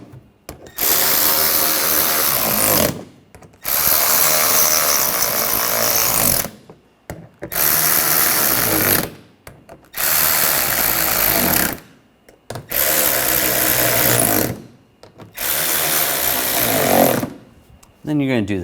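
Power drill driving screws into a 2013-2019 Ford Escape front bumper cover, six loud bursts of whirring, each a few seconds long, separated by brief pauses, close up with no talk.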